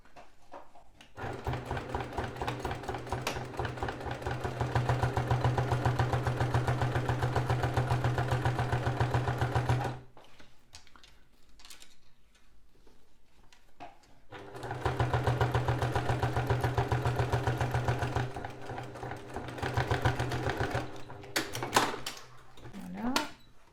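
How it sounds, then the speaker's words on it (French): A sewing machine topstitches a zip pouch, starting from the zipper corners, in two long, fast, steady runs separated by a quiet pause, then a shorter burst and some handling clatter. "donc je fais la surpiqûre à partir des coins de zip"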